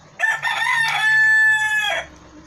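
A single rooster crows loudly and close by, one long drawn-out cock-a-doodle-doo lasting about two seconds, with nothing else around it.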